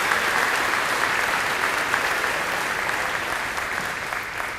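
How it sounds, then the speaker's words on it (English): Banquet audience applauding high school athletes at an athletic banquet, a dense, sustained round of clapping from a large room that fades slightly toward the end. "Please give these young men and these young ladies a round of applause"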